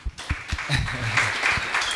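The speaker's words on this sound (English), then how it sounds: "please give a round of applause to Brian." Brief applause from an audience at a tech talk event, a dense wash of clapping that rises quickly and carries on steadily for a couple of seconds.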